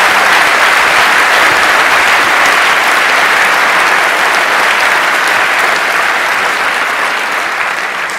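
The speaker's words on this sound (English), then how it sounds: "give Dan a huge round of applause" A large audience at a cryptography conference talk applauds speaker Dan Bernstein, loud, dense, continuous clapping that holds steady for the whole stretch and eases slightly at the end.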